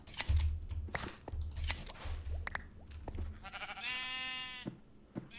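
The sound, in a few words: sheep bleating in a video game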